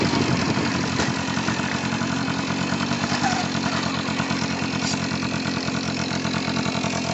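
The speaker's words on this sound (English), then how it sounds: "you hear it kick down into first gear" A Tomos Targa 50cc moped engine runs steadily under load on a hill as it kicks down into first gear, a continuous buzzing drone, near and loud, with no talk over it.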